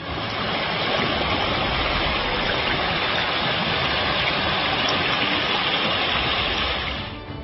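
Floodwater rushes through fields and over roads after about nine inches of heavy rain in Banaskantha, Gujarat. A dense, steady, loud roar and gush of flowing water goes on without a break, with no voices.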